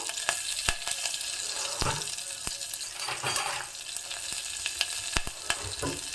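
Hot oil crackles and spits close by, a steady sizzle punctuated by sharp pops as curry leaves and asafoetida fry in a tempering.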